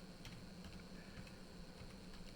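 Quiet keystrokes clatter on a computer keyboard while a field is named in an MS Access database, the light taps coming irregularly over a soft background hiss.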